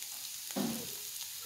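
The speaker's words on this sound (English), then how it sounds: "you should hear it sizzle like that" Stock ladled into a hot risotto pan with spinach, asparagus and mushroom, giving a brief sizzle burst that fades quickly into a quiet steady hiss.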